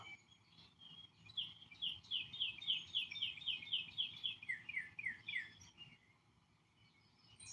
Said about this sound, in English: We got some loud birds rocking.